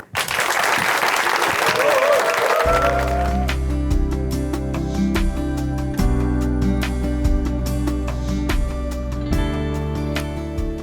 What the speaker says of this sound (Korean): 춘천 한마음교회 신정근 형제님 박수로 모시겠습니다